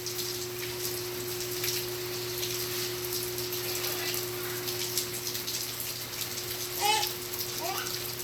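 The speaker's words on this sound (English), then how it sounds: "It's raining all day." Rain falls steadily all day, giving a faint, even patter of drops on surfaces over a constant low hum, with a brief louder splash near the end.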